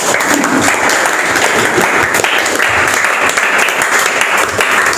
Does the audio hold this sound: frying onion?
no